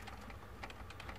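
Keys clatter in a steady run of quick, soft taps on a Logitech G510 gaming keyboard, faint and close, with no voices present.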